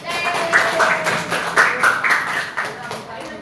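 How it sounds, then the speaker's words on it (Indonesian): Classroom applause in a junior high school informatics lesson on coding with Scratch; a modest group claps in uneven bursts while voices talk over it. "Oke, tepuk tangan."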